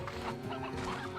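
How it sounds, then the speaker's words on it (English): Chickens clucking in the Slime Rancher 2 video game, a steady close cluster of soft fowl clucks and murmurs over a constant ambient game background with no talk. "Chickens that spawned around."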